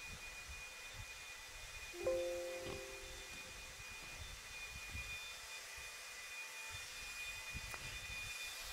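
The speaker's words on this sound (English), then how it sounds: "Marshall's going to grab those blowers. Start blowing off your areas." Blowers clear an RC car race track with a faint, steady whooshing drone that lasts throughout at a distance, broken by one brief tonal blip.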